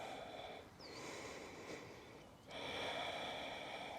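Deep breathing during a yoga balance exercise: a long, airy exhale through the nose, a short pause, then another strong, noisy breath, close and fairly loud with no talking.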